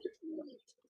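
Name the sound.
pigeons calling (Bullet line)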